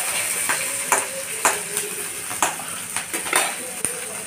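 Green chilies stirred in a spoonful of oil in a pan, a metal spoon scraping and clinking against the pan in irregular strokes over a soft sizzle, close by.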